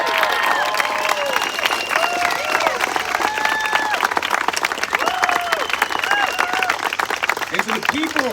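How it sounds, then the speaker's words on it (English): A crowd at an outdoor political rally applauds and cheers loudly, with whistles and shouted voices rising over continuous clapping throughout. "let's give them a huge round of applause."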